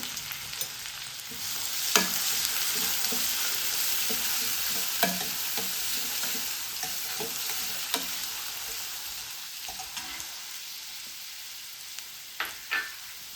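Alibag white onions sautéing in hot oil with a little cumin, a steady sizzling hiss punctuated by sharp spatula scrapes and clicks at irregular intervals, close and fairly quiet, with no talking.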